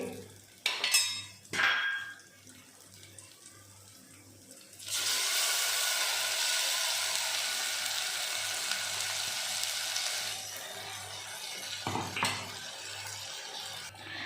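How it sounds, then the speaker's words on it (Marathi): Ground masala stirred and sautéed in oil for a dhaba-style kaju (cashew) curry: scraping clinks at the start, then a long steady hiss of frying paste for several seconds, ending with a few more stirring knocks. "आता हा मसाला चांगला आपल्याला तेल सुटेपर्यंत परतून घ्यायचा आहे"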